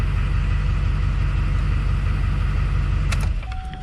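A 2005 GMC Sierra 2500HD truck engine idles after starting on a new battery, a loud steady low rumble close by that drops slightly near the end as a brief click sounds.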